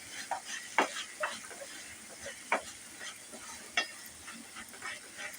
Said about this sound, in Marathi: हे खोबरं मी घालून घेते आता याच्यात आणि मिक्स करून घेते